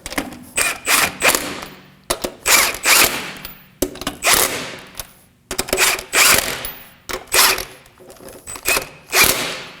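Rapid bursts of a ratcheting impact or power wrench run wheel nuts snug on a 2014-2020 Acura MDX, about eight short whirring buzzes in uneven pairs separated by brief pauses, loud and close with no talk.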